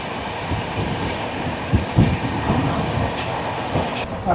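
A train passes close by near Panskura Junction, heard from aboard the Howrah–Puri Dhauli Express, with a loud continuous rolling rumble and irregular rattling clanks and wheel knocks.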